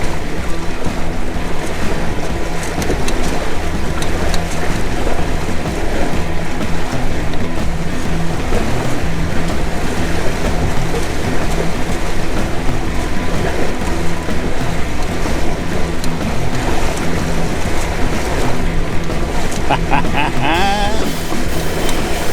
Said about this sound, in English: A lot of wind, but we don't get a lot of speed here.